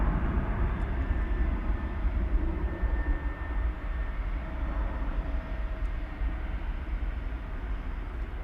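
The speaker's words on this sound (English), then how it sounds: "we got a couple of heavies getting ready to take off for international destinations" A heavy jet airliner at DFW Airport readies for takeoff at night for an international flight, heard as a steady, distant broadband engine rumble with a low roar that holds evenly throughout, with no voices.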